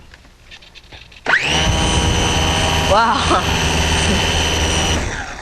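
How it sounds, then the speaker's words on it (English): A model airplane's electric motor starts abruptly and holds a loud, steady, high whining drone, close by, with a brief spoken exclamation over it. "I'm going to start the motor. There's an electric motor up in here."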